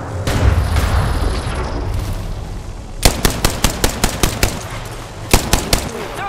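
Gunfire in the video game Apex Legends, with a rumbling firefight giving way to a sharp, loud burst of evenly spaced shots, then a few more close reports.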